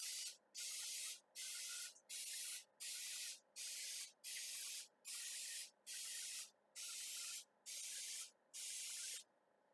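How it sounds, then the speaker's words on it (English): Non-stick cooking spray is sprayed into the cups of a muffin pan in about ten short, even hissing bursts with brief pauses between them, close and clear with no talking. "I've got my non-stick spray. Spray the sucker and make sure all inside the cup is full."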